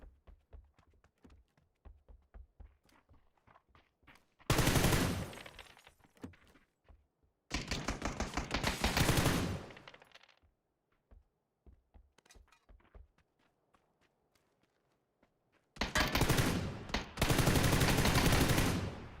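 Three loud bursts of automatic gunfire from PUBG, each a few seconds long with rapid shots, set apart by quieter stretches of footsteps and game ambience.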